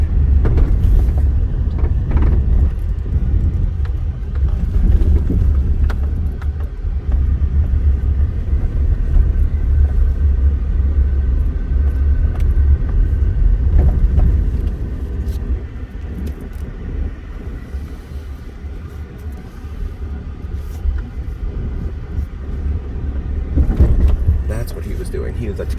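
A car cruises along the Las Vegas Strip toward a casino self-park entrance, its steady low engine and road rumble filling the cabin as traffic noise rises and falls, with talk over it.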